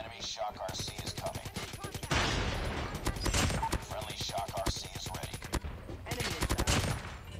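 A PKM machine gun fired in a battle-royale video game, long loud rattling bursts that run almost continuously, mixed with game effects and a voice talking over the shooting.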